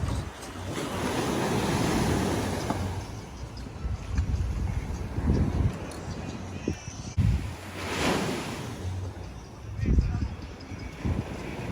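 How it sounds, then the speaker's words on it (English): Ocean waves surge and break on a beach, a broad continuous wash with two louder crashing swells, wind buffeting the microphone throughout. "These waves are no joke."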